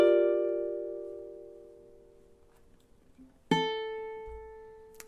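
Ukulele playing measure 21 of a song: one plucked chord rings and slowly fades for over three seconds, then a second strum sounds and sustains, close and alone without talk.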